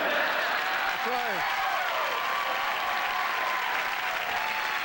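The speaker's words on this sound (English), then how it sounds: "Such a nice applause." Sustained studio audience applause at a late-night talk show, a broad steady wash of clapping with a brief voice-like tone rising over it early on.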